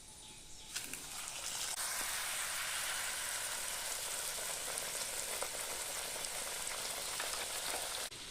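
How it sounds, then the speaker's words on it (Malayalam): Puris fry in hot oil in a pan with a loud, dense sizzle that swells in after a quiet start and holds steady throughout, with light crackles and no voices. "എണ്ണ ചട്ടി വെച്ച് എണ്ണ ചൂടാവാൻ വയ്ക്കാം എന്നിട്ട് ചുട്ടെടുക്കാം"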